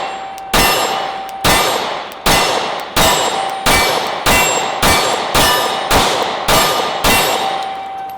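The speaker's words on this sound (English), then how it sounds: "We can finally hit the steel." Shots from a semi-automatic .40 pistol ring off a steel target about a dozen times in a steady rhythm, each a loud sharp crack with a bright metallic clang that lingers briefly.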